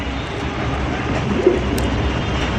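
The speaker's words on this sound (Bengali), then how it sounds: "সিলভার কালারের লাহোরি কবুতর দেখতেই পাচ্ছেন" Silver Lahori pigeons coo in low, continuous rolling calls over a loud, steady background, heard up close for a short stretch with no speech.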